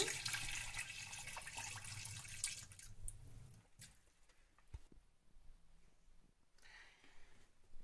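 Rinse water is poured out of a bowl into a kitchen sink, a splashing gush for the first few seconds that fades into scattered drips and small trickles, close and fairly quiet.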